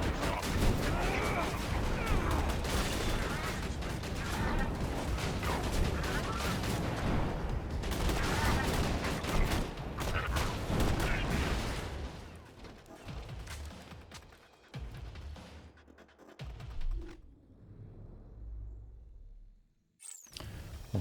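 A Jakobs cannon in Borderlands 2 fires amid loud, dense combat with enemy loaders, sustained booms and crashes that thin out toward the end, with brief silent gaps.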